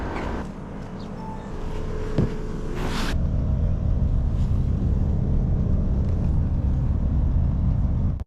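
Riding a bus to Sillamäe brings a continuous low road rumble inside the vehicle. A few faint tones and knocks come early, then the drone stays even and loud throughout, with no voices.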